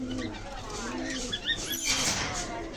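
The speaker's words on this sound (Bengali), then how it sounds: "একজোড়া রানিং পাকিস্তানি কবুতর আছে" Pakistani pigeons cooing in a pigeon shop in Khulna, with soft, repeated coos and rustling close by under a voice talking.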